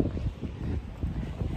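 Heavy wind buffets the microphone with a low, rumbling roar that gusts unevenly throughout.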